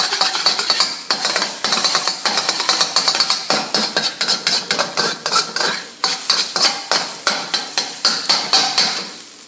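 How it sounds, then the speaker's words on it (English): Eggs scramble in an oiled wok for fried rice, with a utensil scraping and clacking against the metal in a fast, steady rhythm over a continuous sizzle, close and loud. "we want to swirl that around, really coat the pan, get our eggs cooked up quickly. Scramble these up"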